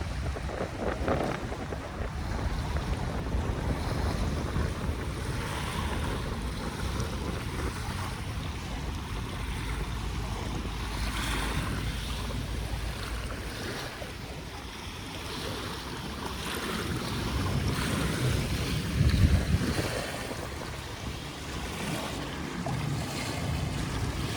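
Strong wind and waves at Manila Bay in early afternoon: constant heavy wind buffeting the microphone over a broad rushing surf, loud and unbroken throughout, with a brief gust surge near the end and no speech.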